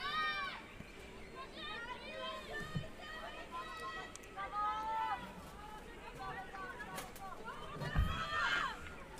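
At a women's T20 cricket match between Bhutan and Myanmar, several fielders shout encouragement to the bowler in overlapping calls from a distance, with crowd noise behind them.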